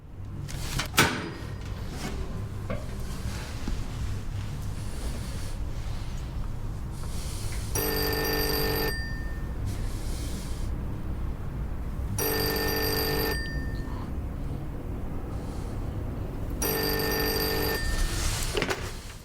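A landline telephone rings in three separate bursts about five seconds apart, each a rattling bell tone over steady background room noise.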